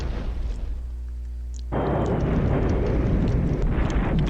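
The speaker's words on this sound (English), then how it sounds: "he continues to bring the artillery" Continuous rumbling artillery barrage in a multiplayer World War II strategy game, a dense low roar that suddenly swells louder and fuller midway and keeps rolling without a break.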